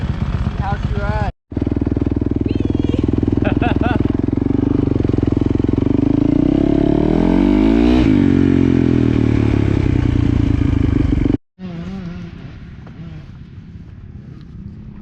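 Brand new dirt bike ridden on a small GP track, its engine a loud, steady drone that rises and falls in pitch as it revs through the run, cut briefly by two short gaps.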